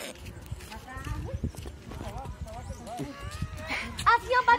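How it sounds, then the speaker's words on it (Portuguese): Horse hooves clip-clop on the ground in uneven steps, close by, beneath frequent talking and calls from people nearby. "Vai, cavalo."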